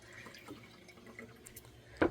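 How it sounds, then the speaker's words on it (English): Water splashes briefly into a blue and white cup being rinsed, mostly a faint trickle ending in one short, louder splash near the close. "And rinse out my same cup."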